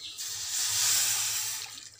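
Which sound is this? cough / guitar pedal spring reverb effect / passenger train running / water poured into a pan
water poured into a pan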